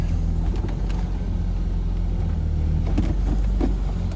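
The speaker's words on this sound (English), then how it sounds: "Car started right up." A car engine runs right after a new battery is fitted, giving a steady, close low rumble with a few light clicks and knocks over it.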